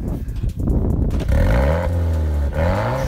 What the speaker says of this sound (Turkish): Zaten arabanın bir egzozu var, başka bir şey yok ki. Onun sesini duyurtalım.